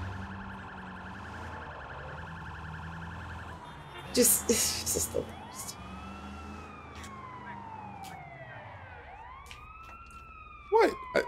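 Police sirens from the video game Sleeping Dogs wail and sweep up and down over a steady background, with brief sharp bursts and a player talking over them.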